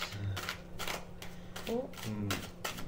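Playing cards are shuffled several times in a row, giving quick riffling bursts, while people talk casually over them.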